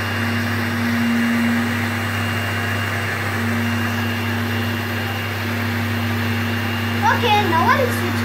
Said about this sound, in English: Now I'll switch on the blender.